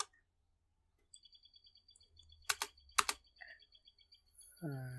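Keys on a computer keyboard are tapped in a light, irregular run of clicks while a CSS style file is written, a couple of louder clacks standing out, close and quiet.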